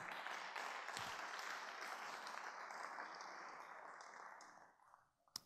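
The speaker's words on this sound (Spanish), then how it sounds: "Y eso merece un fuerte aplauso de agradecimiento." Church congregation applauding, a soft, fairly distant patter of clapping that fades out over about four seconds and leaves near silence.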